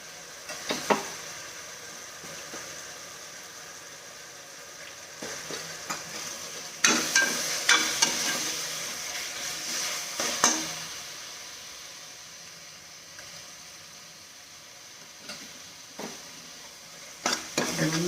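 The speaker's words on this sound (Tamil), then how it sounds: "நல்லா வதங்கினே இருக்குதுங்க." Tomato, ginger, garlic, cinnamon, cloves, pepper and coriander sautéing in a pan for chicken gravy: a steady soft sizzle with occasional scraping stirs and clinks, continuous and close, no talk.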